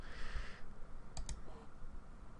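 Two quick computer mouse clicks close together mid-clip, crisp and near, following a brief burst of soft desk noise, with no voices.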